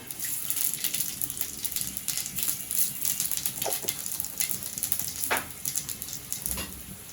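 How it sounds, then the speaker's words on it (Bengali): Hot oil sizzling in a pan as cumin seeds and meat begin to fry, a steady close hiss with faint crackles and pops throughout, no voices. "তো এখানে তেল দিব মাংসের জন্য আস্তে একটু তেল বেশি দিব ভাবতেছি দেব একটু জিরা"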